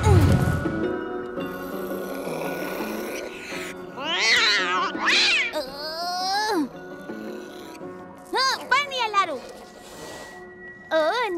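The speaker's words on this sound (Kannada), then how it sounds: "ನೀನೇನಾ ಬೆಕ್ಕು?" Cartoon cat in a children's 3D animated story meowing and caterwauling in several drawn-out, rising and falling calls, loud and close, with music and speech in the background early on.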